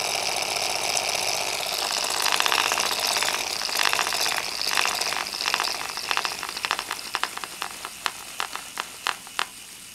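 Electric motor spinning gyroscopes, a loud whirring and rattling hum that gradually breaks up into separate clicks and ticks as it slows near the end.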